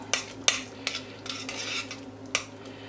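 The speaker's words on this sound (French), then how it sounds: "On va goûter avec une cuillère propre." A clean metal spoon clinking against a pan of Bercy sauce with bone marrow, a few light, sharp taps spread over a couple of seconds, quiet and close.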